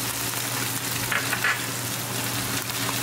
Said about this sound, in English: We're going to saute our onion until they get transparent.